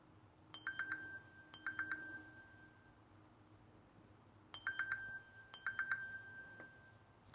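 A Samsung Gear S3 Frontier smartwatch sounds its alert at high volume: two pairs of bright, rapid multi-tone beep bursts, then a pause, then two more pairs, fairly faint over low room hum.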